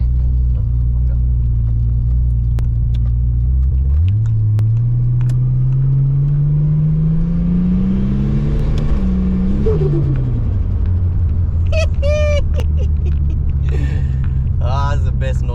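A Holden VL Calais Turbo engine roars loudly, rising in pitch as it accelerates hard, then eases off, with brief chirping noises near the end.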